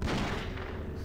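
Gunfire in the video game Doom 3: BFG Edition, a dense burst of shots packed together over about a second, loud and continuous with no pauses.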